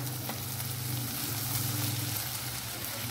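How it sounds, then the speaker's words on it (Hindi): Spicy okra (bhindi) fries in a pan with a steady, close sizzle that holds even throughout, along with faint stirring noises and no voices. "तो इसे हम अभी भूनेंगे थोड़ा सा मज़ीद।"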